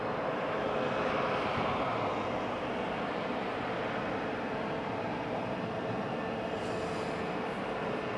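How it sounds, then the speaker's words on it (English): Airbus A321 airliner arriving at Madeira Airport, a steady broad jet roar holding at fairly constant loudness throughout, with no voices. "This is an Airbus A321 arriving from New York"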